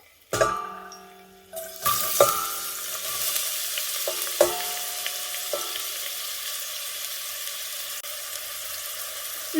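Chopped onions hit hot oil in a deep pot while cooking a bone-broth chickpea stew, bursting into a loud sizzle after a quiet start, then settling into a steady close hiss with a few stirring clinks.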